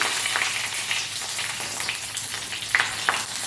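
Red chillies and curry leaves frying in hot oil for a rasam tempering, a continuous close, loud crackling sizzle with a few sharper pops toward the end.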